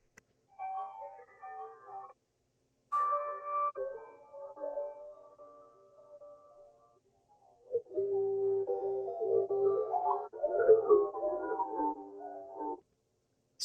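A quiet, melodic texture sample from the Fairy Adventures kit by Hades and Mute, with soft tonal phrases in separate bursts and a warmer, busier passage near the end. It plays alone.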